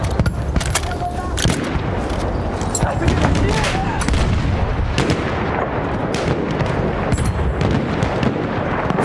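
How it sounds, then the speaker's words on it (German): Machine gun fire on a World War I battlefield in Battlefield 1 Conquest mode: rapid loud bursts crack repeatedly over dense gunfire and distant explosions, a chaotic continuous barrage with shouted voices mixed in. "Aufpassen, Maschinengewehr!"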